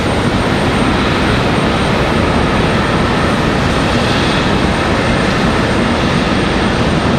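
An Embraer E175 airliner at Raleigh-Durham airport in stormy weather, a loud, steady roar of jet engines that holds unbroken throughout.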